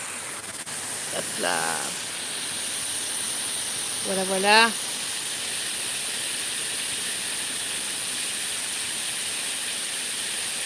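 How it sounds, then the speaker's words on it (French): A steady waterfall roars throughout as continuous broadband rushing noise, with someone speaking briefly twice over it. "le bruit que tu entends en fond, c'est cette chute d'eau"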